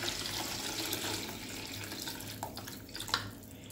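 Water poured into a cooking pot on a home stove, a steady soft splashing stream that runs for a few seconds and ends with a couple of small splashes, no talking.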